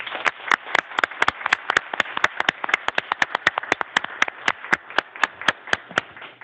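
Board meeting attendees clapping, a small group whose sparse, distinct claps ring out in a quick uneven rhythm, close and fairly loud.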